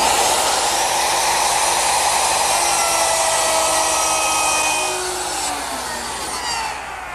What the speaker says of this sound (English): set up my plunge router with a 1/2-inch straight cutting bit